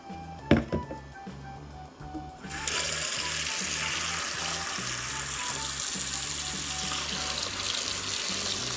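A few thunks, then a tap opens and cold water gushes steadily into a tub, a loud continuous rushing that carries on to the end.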